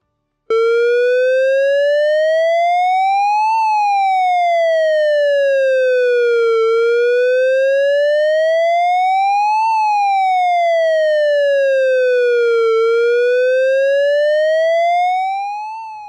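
A power plant all-clear siren wails in a slow, even rise and fall, three smooth sweeping cycles, loud and alone, fading out at the end.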